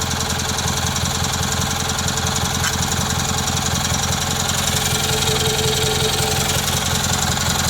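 A Kohler Magnum M18 engine on a Cub Cadet 1882 garden tractor idles steadily and loudly nearby, a constant throbbing mechanical drone with no talk.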